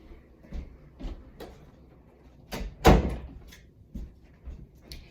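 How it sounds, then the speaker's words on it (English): An indoor door is pushed shut with a single firm thud after some softer shuffling and knocks around it, fairly close and quiet. "I have to shut my door 1 second."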